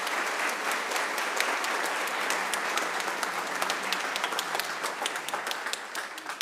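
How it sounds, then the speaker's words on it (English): A graduation audience for a high school class of 2022 bursts into sustained, dense applause, many hands clapping steadily for several seconds with no voices over it, fading slightly at the end. "Please give them a round of applause."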